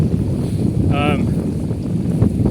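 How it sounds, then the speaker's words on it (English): Steady, rumbling wind buffets the microphone on an exposed rocky hillside in the Peak District, with a brief high whistling tone rising over it partway through. "every time it just gets windy"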